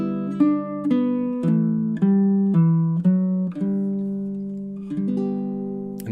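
Baritone ukulele plucks a chord melody of Danny Boy, a slow succession of warm, ringing strummed chords that each sustain and fade, played close and alone.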